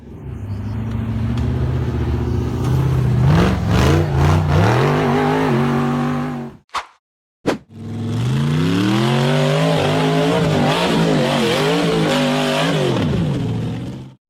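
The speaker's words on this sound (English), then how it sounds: "the engine roared helplessly under heavy throttle" A loud off-road buggy engine revs hard and roars continuously on a steep rocky hill climb, pitch climbing and falling under heavy throttle, cutting out briefly before roaring again.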